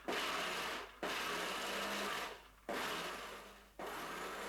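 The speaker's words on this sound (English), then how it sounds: "I'm using the food processor again" A food processor chops walnuts in three loud bursts of whirring and grinding, each run lasting about a second and a half and separated by brief pauses, close up with no voices.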